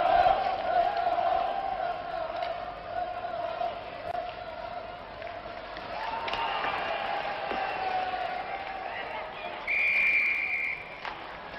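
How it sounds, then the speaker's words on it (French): In a 1972 Olympic ice hockey game between the USSR and Czechoslovakia, a referee's whistle shrills to call a penalty, sustained and piercing over a constant roaring arena crowd, with a second sharp whistle near the end. "une pénalité est sifflée contre le soviétique Romichevski"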